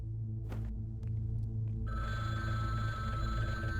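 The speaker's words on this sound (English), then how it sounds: "The phone goes off." A tonal electronic phone ring in a horror video game starts partway through and keeps sounding steadily over a low humming background, after a few soft thumps.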